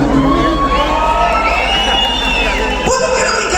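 A crowd at a summer peach fair in Zautla, Puebla cheers and shouts loudly and continuously, with whoops and yells blending into a dense roar and a voice audible within it.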